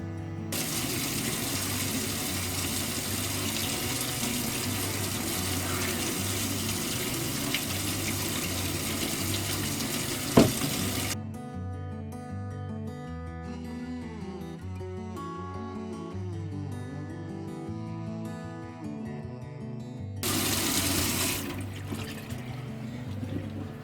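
Running tap water splashes during a face wash in a skincare routine, a steady hiss heard beneath background music, dropping away midway and returning near the end.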